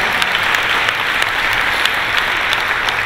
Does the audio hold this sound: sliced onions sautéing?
no